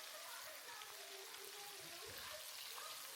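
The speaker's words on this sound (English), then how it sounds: "So I'm going to let it fry until they are nice and golden brown." Fish fries in hot oil until golden brown, giving a quiet, even crackling sizzle with faint popping throughout.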